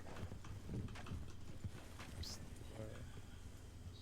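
Hooves of a horse trailing behind the players in a video game, clip-clopping steadily at close range beneath a constant low background rumble, with occasional game sounds.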